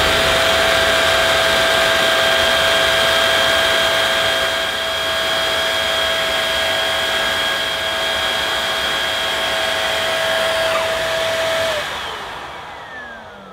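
A Nilfisk Combi floor washer runs on its storage tray, giving a loud, steady motor whine with a constant hiss that holds for several seconds, then dips and winds down near the end.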